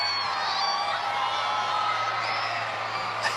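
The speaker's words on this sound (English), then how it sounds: "This crowd is getting more and more raucous." A raucous arena crowd at a London Olympic test event cheers and whoops in a continuous, dense roar heard from a distance, with a low steady hum underneath.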